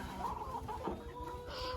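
Hens clucking in a poultry house, a short, faint run of soft clucks close by.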